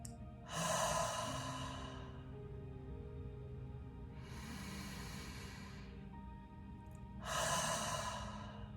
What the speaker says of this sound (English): relaxing and releasing all of the air through your mouth. Make a noise on your exhale.